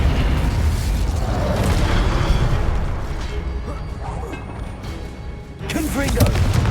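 Spell-casting burst from the Hogwarts Legacy Incendio fire spell, a loud whooshing blast amid dense combat noise, with a second flare near the end; a voice shouts over it.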